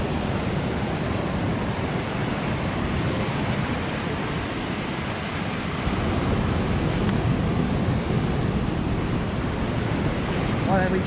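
Surf on the beach at Pollan Bay, Ballyliffin, County Donegal, a loud continuous wash of breaking waves mixed with heavy wind buffeting the microphone, steady throughout.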